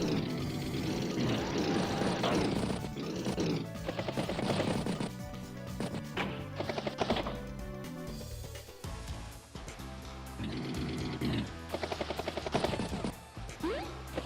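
A bomber unit in the video game Advance Wars moves across the map with a loud, continuous engine drone mixed with game music and effects, changing in texture and volume throughout.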